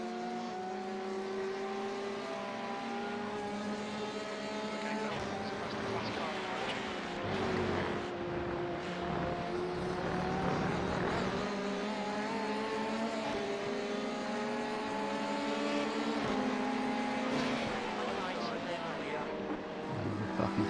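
A simulated Porsche race car engine in iRacing during a 24-hour race at Road Atlanta drones steadily, its pitch rising and falling with throttle and gear changes throughout.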